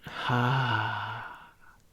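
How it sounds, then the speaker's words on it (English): Person exhaling slowly and audibly during a breathing exercise, giving one long, voiced, sigh-like outbreath close to the microphone that fades out. "And breathe out."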